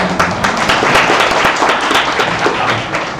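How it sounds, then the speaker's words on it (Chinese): A lecture audience breaks into loud, close applause: dense, continuous hand clapping with sharp individual claps standing out for a few seconds. "大家掌声一下。"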